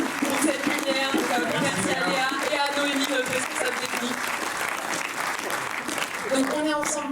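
Sustained audience applause fills a cinema auditorium at the Méliès in Montreuil, dense and steady throughout, with scattered voices and a few shouts mixed into the clapping.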